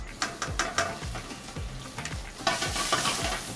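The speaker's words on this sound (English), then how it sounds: "Pan's now hot, in go the shrimp." Shrimp hitting a hot wok with avocado oil, giving a loud, steady sizzle close to the microphone, with rhythmic scraping strokes of a utensil stirring repeatedly through the pan, no talking.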